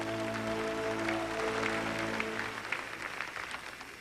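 A pageant audience applauds for the semifinalists, a broad wash of clapping that rises as background music fades out, steady and somewhat distant.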